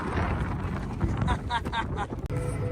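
Steady gusting wind roars across the microphone on a farm field, too windy to plant, a constant rumbling buffet with voices faintly talking underneath.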